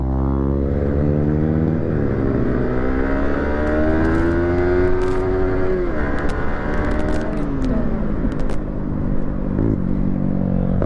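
A motorcycle engine is held at full throttle in a failed wheelie attempt, a loud, close, sustained roar with pitch sweeping up and settling, steady wind noise and no talk.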